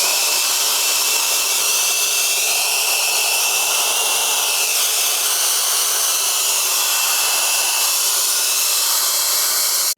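An electric air blower runs with a steady, loud, whooshing roar throughout while cleaning a computer keyboard. Nothing else is heard over it.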